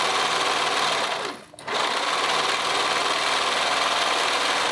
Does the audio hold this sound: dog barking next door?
no